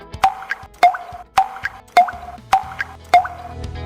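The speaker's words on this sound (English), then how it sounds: "you can hear the auditory cue, the rhythmic tick-tock sound from the earphone" Rhythmic tick-tock cue from a GYENNO SKYWALK Bold Parkinson's walking-aid earphone: six crisp, evenly spaced clicking ticks at a steady walking pace, close and clear with no talking.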